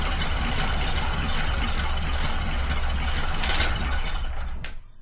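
A 100-year-old moonshiner's car engine held at wide open throttle, a loud, steady roar with a rough low-end rumble that carries on unbroken before cutting off abruptly near the end.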